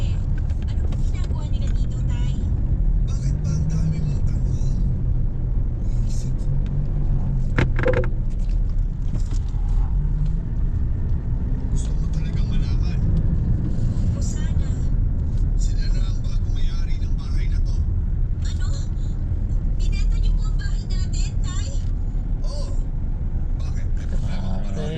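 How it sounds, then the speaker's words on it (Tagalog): Heavy stop-and-go traffic on the NLEX expressway near Santa Rita and Pulilan, heard from inside a vehicle as a steady low engine and road rumble, with people talking over it throughout. "Grabe traffic"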